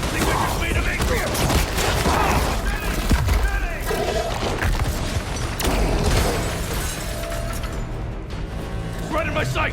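Rapid gunfire bursts and mechanical clatter from Marvel's Spider-Man 2 video game, dense and loud throughout, with a player talking over the shots.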